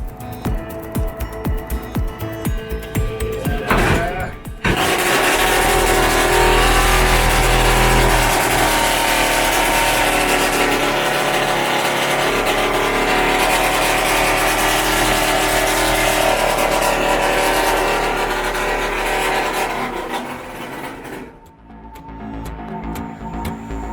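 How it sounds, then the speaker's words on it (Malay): A custom Yamaha RXZ motorcycle engine revs hard and holds a loud, raspy roar for many seconds, then drops back to idle near the end. "kami belanja bunyi unik motosikal custom Twin Boss RXZ version 2"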